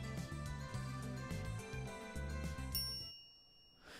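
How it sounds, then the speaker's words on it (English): Background music plays until a single bright elevator arrival chime rings out, marking arrival on the 5th floor in the visual novel Steins;Gate, then its ringing tone fades away into near silence. "A chime signals our arrival on the 5th floor."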